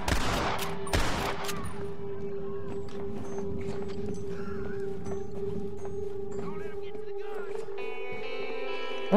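Gunfire in the video game Red Dead Redemption, a burst of sharp shots at the start followed by scattered fainter pops over a steady game hum and music, with no voice over it.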